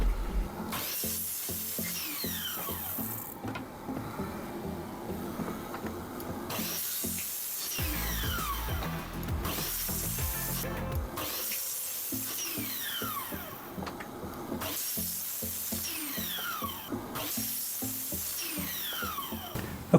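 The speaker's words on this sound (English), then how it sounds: "on the miter saw I batched out all the pieces to length and trim the corners of the joint pieces" A miter saw batch-cutting plywood pieces to length, with repeated whining cuts of a few seconds each and brief pauses between them, steady and moderately loud with no voices.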